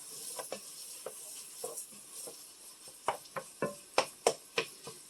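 Beef and onions cooking in a Dutch oven give a soft steady sizzle, broken by a run of sharp stirring scrapes and knocks that grow louder and more regular toward the end.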